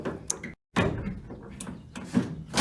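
The door of a 1966 Dodge crew cab truck swings shut in a workshop, a short thunk followed by a brief silent gap and rattling, noisy handling sounds.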